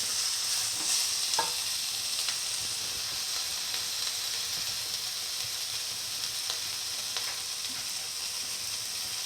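Fenugreek leaves being stirred and mixed with salt, giving a soft, steady hissing rustle with a few faint clicks of utensil contact, close and quiet with no voices.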